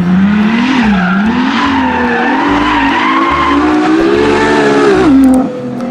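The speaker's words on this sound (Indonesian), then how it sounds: "Wadidaw, mobil balap." A toy race car sound effect plays loud and close, a continuous screeching tire skid with a revving engine tone that rises and dips over a thumping beat before cutting off.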